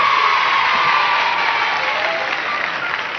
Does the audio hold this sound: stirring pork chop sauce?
no